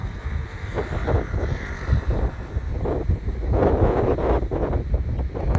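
Strong wind blows over the Jokno Bridge on Manila Bay in Pasay, buffeting the microphone in a constant low rumbling roar that swells and gusts throughout, close and loud with no talk.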